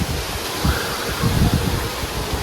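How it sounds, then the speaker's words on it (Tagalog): Steady wind gusts through a hillside area with coconut trees, rustling and damaging leaves in a continuous hiss with a few stronger swells, buffeting the microphone. "Mahangin dito kaya yung mga dahon ay na ano rin, nasisira dahil sa lakas siguro ng hangin na yun"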